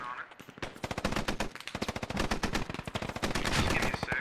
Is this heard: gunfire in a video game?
yes